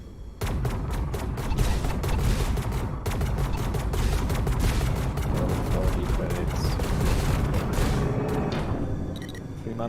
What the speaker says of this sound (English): I'm just destroying all the turrets to grind money